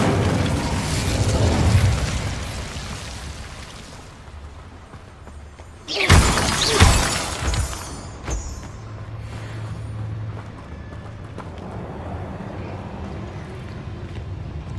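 A burst of Incendio fire-spell magic in Hogwarts Legacy erupts suddenly over a bed of game music and ambience, a loud whooshing flare with crackling pops that fades back into the background rumble.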